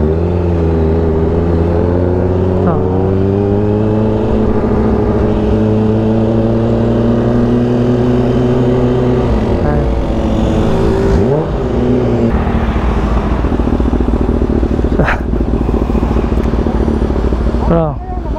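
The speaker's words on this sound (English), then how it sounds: "Gamitin natin itong ating Kawasaki H2 para ma-demonstrate ko sa inyo at matesting natin aking on-road experience" A supercharged Kawasaki H2 motorcycle rides on the road, its engine droning loudly with rising and falling pitch as it accelerates and shifts, heavy wind rush over the rider, and speech nearly constant throughout.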